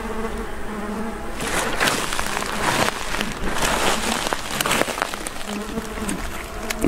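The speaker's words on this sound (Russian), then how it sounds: "очень много комаров" Mosquitoes swarm in a forest near a village, a dense whining buzz hovering close around the listener, broken by faint rustling and scattered clicks.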